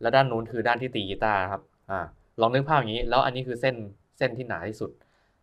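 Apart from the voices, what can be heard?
None of the usual background noises is heard.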